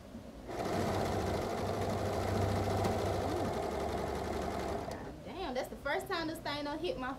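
A sewing machine stitches an oversized hoodie being made into a two-piece set, a loud, continuous rapid whirring run of about four seconds that stops abruptly, followed by someone talking.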